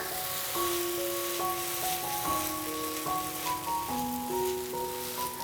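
A caramel dosa sizzles steadily on a hot pan after being flipped, giving a continuous soft crackling hiss beneath a gentle melodic music track.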